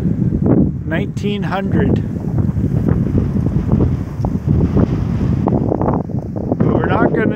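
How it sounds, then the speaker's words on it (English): Strong outdoor wind buffets the microphone in heavy continuous low rumbling gusts, loud and close, while people talk briefly over it. "It's windy."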